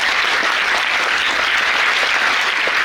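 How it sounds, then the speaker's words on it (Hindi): A large audience claps steadily for a group of children at a spiritual discourse, a dense, continuous wash of applause with no voices on top. "इनके लिए ताली बजाओ"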